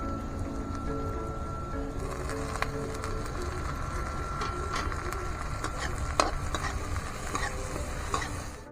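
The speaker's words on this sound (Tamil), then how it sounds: "இப்போ இது வெங்காயத்து கூட கலந்துக்கலாம்." Kashmiri chili being stirred with onions in a frying pan, a steady close sizzle with soft scraping and occasional spatula clicks.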